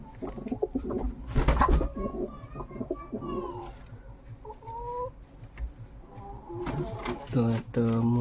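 Pigeons in a flying-line loft coo and cluck in a busy, overlapping chorus, with someone talking close by throughout.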